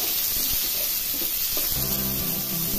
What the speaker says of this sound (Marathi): मी कापून घेऊन धुवूनच ठेवलेले आहेत, थोडे 2 मिनिट परतायचे